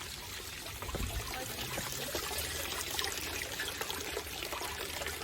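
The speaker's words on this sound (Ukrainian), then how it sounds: "мы нашли водоспад" Steady rushing and splashing water flows continuously, like a small cascade, at moderate distance with no talking.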